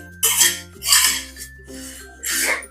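Poha roasting in oil with a little turmeric in a pan over low heat for Diwali chivda, with bursts of dry scraping and metal-on-pan stirring in rhythmic strokes, close up, over a steady low hum.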